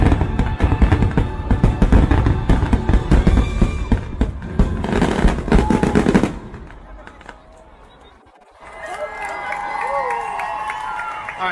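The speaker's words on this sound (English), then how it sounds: "that is the end of the fireworks" Fireworks show at Disney World Magic Kingdom: dense, loud rapid bangs and crackles for several seconds, then a lull and a distant crowd cheering and chattering.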